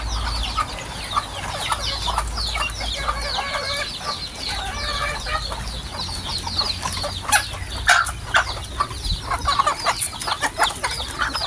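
Chicks being fed corn grits chirp continuously in a busy, high-pitched chorus, with a rooster-and-hen flock clucking nearby and brief louder peeps toward the end.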